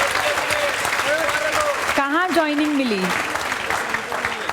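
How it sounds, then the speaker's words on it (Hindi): Enthusiastic applause from a classroom of students, a steady dense clapping that runs throughout while a voice briefly speaks over it partway through. "ज़ोरदार तालियां बजाओ।"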